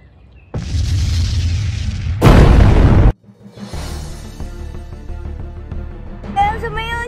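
Loud booming explosions from an air raid in a World War I battle game, a heavy blast burst followed by a sudden drop to quieter rumbling and scattered battlefield noise.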